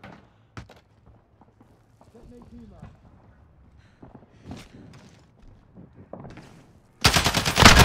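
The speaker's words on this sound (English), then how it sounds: "Taking fire over here!" Gunfire in the video game Call of Duty Modern Warfare 2019, scattered distant shots and footsteps building to a loud, rapid burst of automatic fire at the end, with voices heard over it.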